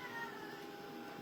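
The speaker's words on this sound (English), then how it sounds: "Meow meow." A cat meows once, a faint, drawn-out tonal cry heard alone against quiet indoor background.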